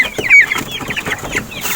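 Farm chickens cluck close by while being fed, several birds overlapping in a busy, choppy chorus of short calls.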